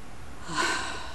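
One short, raspy cough from a cat, a quick hacking burst with a breathy snort, close by in an otherwise quiet room.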